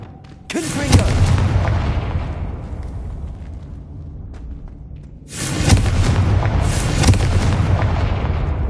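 Fire curse explosions in Hogwarts Legacy: a loud, booming blast with a crackling roar that fades over several seconds, then a second heavy burst of fiery rumbling follows near the end.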